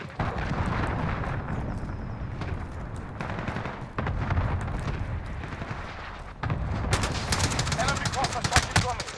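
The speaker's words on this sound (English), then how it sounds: "Friendly cluster strike inbound." Multiplayer video game combat with a cluster strike, dense rapid gunfire and rumbling explosions that surge and drop, then a harsher burst of blasts near the end, with voices mixed in.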